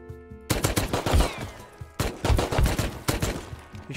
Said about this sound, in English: He's shooting through the sandbags.